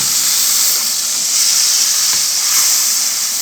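A turkey breast sears in a hot pan with a loud, steady, close sizzle and hiss that runs on without a break.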